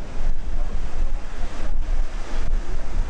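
Strong wind roars steadily across the microphone in broad, rushing gusts at the Royalton Hicacos resort, with a faint wash of surf beneath it and no voices.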